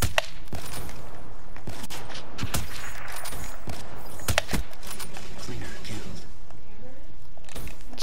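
Gunfire in Call of Duty: Black Ops III, scattered sharp shots and short bursts, some close and loud, mixed with clatter while a voice talks.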